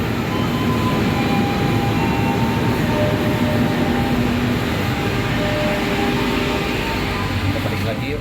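Sancaka Utara passenger train with four New Generation economy cars, heard as a steady, loud rumble of rolling wheels and rail noise that continues evenly throughout without breaks.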